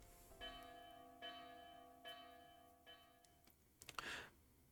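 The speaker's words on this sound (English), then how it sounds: "That's the alarm bell for the sentry tower." A sentry tower alarm bell in the Fate Grand Order game, heard alone, rings four evenly spaced times with long ringing tones, followed by a brief clatter of rustling noise at the end.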